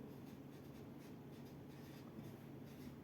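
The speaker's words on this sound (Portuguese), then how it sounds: "A gente vai escrever aqui" A marker scratches labels onto a paper sewing pattern: a faint, steady scratching and rubbing that continues without a break, close and quiet, with no voice.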